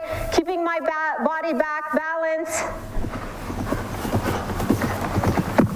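Horse's hooves clip-clopping during show-jumping riding work at a jumper clinic, with a whinny-like tonal sound early on, then a steady run of hoofbeats and arena noise, heard alongside a voice.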